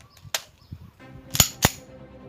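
A CZ 75 B 9 mm pistol fires two sharp shots in quick succession, close and loud, after a softer crack and some low handling noise.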